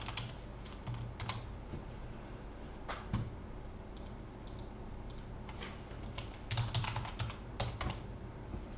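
Continuous typing on a computer keyboard: steady quick clicks and taps with occasional sharper keystrokes, close and moderately quiet against a soft background hiss, with no talking.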